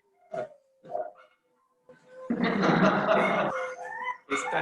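A dog barks at a house: two short barks, then a louder, sustained burst of barking and whimpering, heard near and alone without talk.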